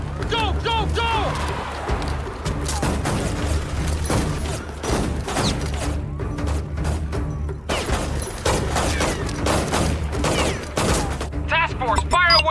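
Rapid bursts of automatic gunfire and shots crackle continuously in an Act of War: Direct Action game battle, loud and dense, with shouted voices in between.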